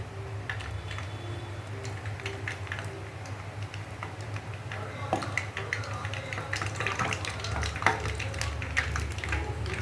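Punugulu batter fries quietly in hot oil with a faint, steady sizzle and scattered small crackles and pops building slightly over time, heard up close at low volume.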